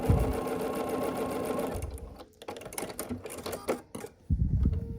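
A sewing machine stitches 1-inch fabric squares for a table runner block, a loud, close, rapid mechanical hum that runs steadily, breaks into stop-start ticking bursts as the fabric is guided, then resumes at full speed.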